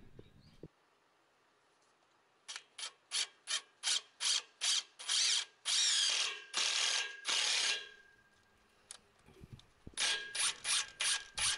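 A power drill drives flat-head self-drilling screws through a metal pipe for a homemade wooden deck. It gives repeated short, harsh grinding and ratcheting bursts, then longer sustained drilling, close and loud, with quiet gaps in between.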